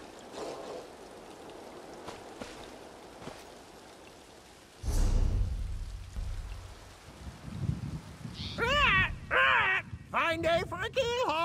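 A bird in an Elder Scrolls Online quest calls with a few harsh, warbling caws near the end, after a stretch of rain-like ambience and a sudden low rumble, with talk in the background.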